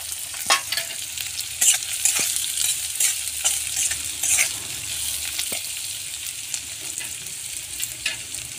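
Chopped onion frying in hot oil with cumin for zunka on a village wood-fired stove, a bright continuous sizzle broken by repeated spoon-stirring clacks and scrapes close by, no one speaking.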